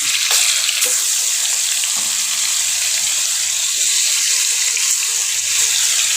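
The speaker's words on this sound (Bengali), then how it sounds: "আমি এখন মুরগির মাংসগুলো ভালোভাবে ভেজে নেব" Chicken pieces fry in a generous amount of hot oil in a pan, with a loud, dense, continuous sizzle that holds steady throughout.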